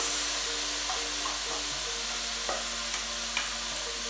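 Cooked rice is stirred and tossed in a hot pan for fried rice, with a constant loud sizzle and scattered scraping clinks of the utensil against the pan.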